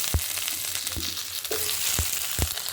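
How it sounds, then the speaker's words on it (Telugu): Okra sizzles steadily in a little oil in a pan, with soft stirring clicks and scrapes breaking through the frying hiss every half second or so. "బెండకాయలు కొద్దిగా ఆయిల్ ఫ్రై చేద్దాం."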